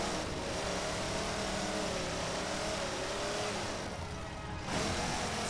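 A Warthog vehicle from Halo 4 driving: a steady, mid-pitched engine drone with slight revving shifts, fairly faint and continuous, with a brief dip and surge near the end and no voices.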